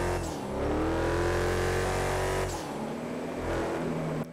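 A car engine in GTA Online revs loudly and steadily with a strong, rising drone, dips briefly midway, then climbs again and holds near and alone.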